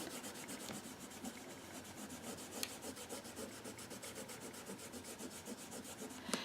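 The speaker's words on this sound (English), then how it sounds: "I'm just going to loop my baby wipe around my finger like that, and just go ahead and start rubbing that color in." A baby wipe wrapped around a fingertip rubs ink colour into a textured paper card, making soft, quick, rhythmic scrubbing strokes that repeat evenly at close range. No voices.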